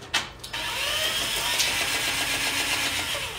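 A spin art machine whirs steadily as it spins, a continuous mid-pitched motor hum with a soft rattle that starts after a brief bump and holds level to the end, with no talking.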